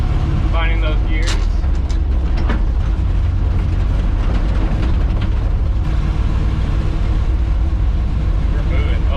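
An old truck driving with a loud, rumbling engine and rattling cab, its drone shifting as gears change, with people talking over the steady road noise.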